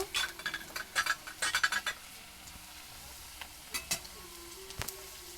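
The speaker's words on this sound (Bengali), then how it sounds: "আলুটা একটু লাল লাল করে ভেজে নেব।" Potatoes fry in oil with a soft, steady sizzle, while a spatula scrapes and clinks against the pan in bursts, busiest at the start.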